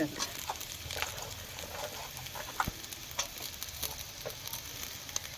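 Chopped Malabar spinach (pui shak) frying in a pan for a spiceless lentil curry, giving a steady soft sizzle with light patter and occasional crackles, fairly faint and continuous throughout.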